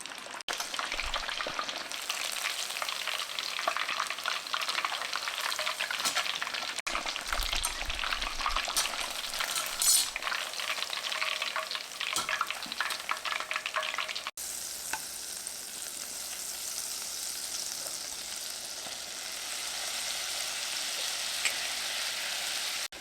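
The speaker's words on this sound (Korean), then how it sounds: "이제 한 번 더 튀겨보겠습니다." Pork cutlet deep frying a second time in hot oil, giving a dense, steady crackling sizzle that runs unbroken and close-up throughout.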